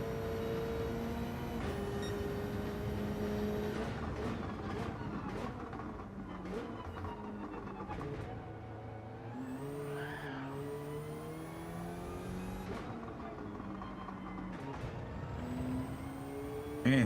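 A Subaru BRZ race car in Gran Turismo 7 endurance racing drones steadily, its engine pitch climbing and dropping through gear changes with occasional tire squeal, continuous and moderately loud.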